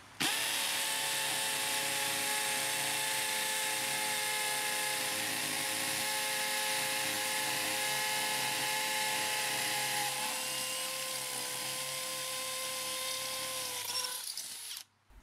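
A Bosch cordless drill runs at full speed, giving a loud, steady whine that holds for about fourteen seconds before cutting off abruptly.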